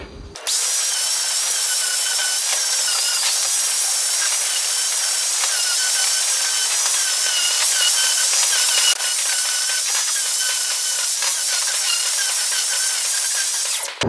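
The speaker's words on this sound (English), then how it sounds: "just want to give it a bit of a clean up with the grinder, all these burrs, extra shavings and all that." Angle grinder cleaning burrs and shavings off metal polo drop plates, a loud continuous high whine held steady for the whole stretch with slight shifts in pitch as it works the edges.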